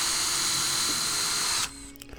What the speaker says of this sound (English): This tool steel is annealed. Otherwise you wouldn't be able to drill those holes in it.